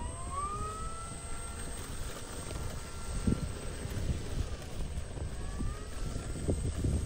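A Flightline 1600mm Corsair RC warbird plane runs its electric motor at an outdoor flying field, a steady whine with rising pitch sweeps and wind rumble throughout, sounding moderately close.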